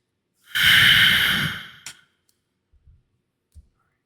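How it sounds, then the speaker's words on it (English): One long, loud, close exhale like a heavy huff or sigh, followed by a few faint clicks and small mouth noises in otherwise near silence. "I can hear you breathing."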